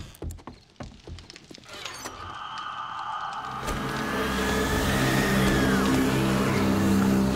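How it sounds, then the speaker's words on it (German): A motor in the 7 Days to Die video game starts up over clattering footsteps. It swells into a loud, steady mechanical drone that holds to the end. "Stelle auch gleich mal unsere Motoren an."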